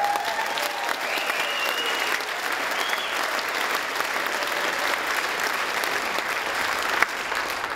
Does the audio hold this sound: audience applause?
yes